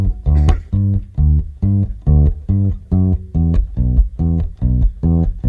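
Bass guitar plays a bluegrass-style intro as a loud, close, steady walking pattern of evenly spaced round low notes, with no talking over it.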